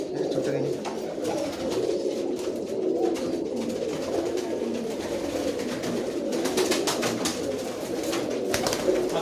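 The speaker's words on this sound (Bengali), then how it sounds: "এবার কিছু পায়রা আকবরদা দেখাবে।" Pigeons coo steadily in a loft among many birds, a dense, continuous murmur of soft throaty calls with occasional wing flutters, held at an even, moderately loud level throughout.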